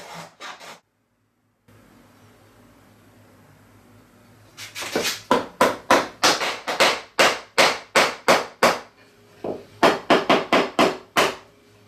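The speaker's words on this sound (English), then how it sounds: "it is basically a process of scoring and cutting until the dovetail is the proper size to fit into the slot that we had cut previously" Traditional Chinese woodworking tools scoring and cutting a wooden sliding dovetail, a short tap, a pause, then a long run of sharp, evenly spaced chopping strikes, close and crisp with no talk.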